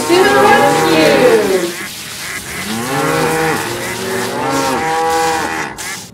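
Loud, drawn-out cow moos, one long low call followed by another wavering moo, close and prominent with no other sounds around them.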